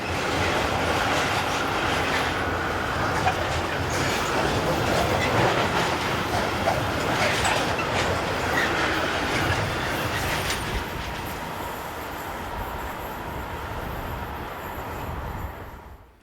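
A Swiss Re 6/6 Class 620 electric locomotive hauls a train toward Thun, passing close with a loud rumble and rhythmic clatter of wheels on rails that fades somewhat toward the end.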